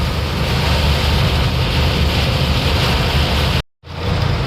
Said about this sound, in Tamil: காத்தோடு சேர்ந்து மழை அடிக்குது நல்லா